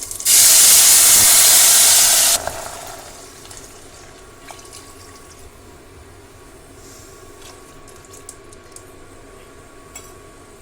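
Water poured into a hot pan of tempering with asafoetida, red chillies and curry leaves for puli pongal gives a loud, bright steaming hiss that lasts about two seconds. A quieter simmer follows.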